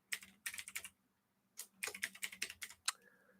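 Fingers type on a computer keyboard in two quick bursts of clicky keystrokes separated by a short pause, close and moderately quiet, with no talking.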